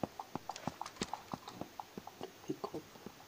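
Horses' hooves clip-clopping in a video game, a quick, uneven run of light hoof clops at moderate distance, with no voices.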